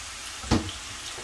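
Papdi for dahi bhalla, cut from samosa pastry strips, frying in hot oil, a steady soft sizzle with one brief louder splash or crackle partway through.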